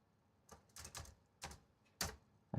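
Keys on a laptop keyboard under repair are pressed in a few separate sharp clicks and short clusters, close and quiet, with pauses between strokes.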